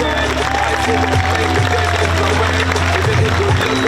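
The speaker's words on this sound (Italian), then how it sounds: "Ancora più forte il vostro applauso per tutte loro." Applause and cheering for Miss Italia regional final contestants, a continuous crowd wash with a low steady hum beneath and voices mingling in.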